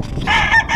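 A rooster at a cockfight in Michoacán, Mexico, crows once, close and loud, a brief strained call rising out of low background noise.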